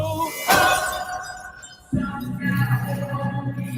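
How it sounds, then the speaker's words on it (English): A glass shatters near ice in a film scene, a sharp bright crash followed by tinkling debris, then a lower thud and a lingering tonal hum afterward. "He breaks a glass near ice."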